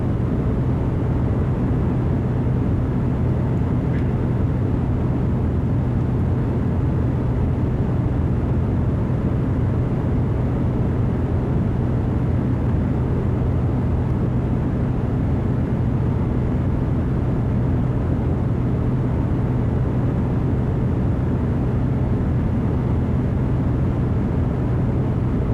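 Piper Comanche single-engine aircraft in Microsoft Flight Simulator 2020, a steady propeller and engine drone in cruise, loud, unbroken and unchanging throughout with no talk.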